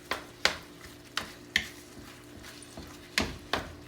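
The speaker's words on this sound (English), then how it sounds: "So just continue to stir here." Ground meat browning in an oiled pan for moussaka, stirred with a utensil: repeated scraping, knocking strokes at an irregular rhythm over a steady low sizzle, close and clear with no talk.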